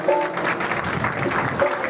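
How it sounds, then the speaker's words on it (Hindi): An audience at a spiritual teaching camp gives a short, steady burst of clapping with no pause, fairly loud and close. "जोरदार तालियां बजाएं।"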